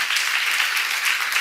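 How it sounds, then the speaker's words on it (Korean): A church seminar audience claps together on a count of three, producing a steady, dense wash of applause that fills the whole moment with no voices over it. "박수로 하나 둘 셋."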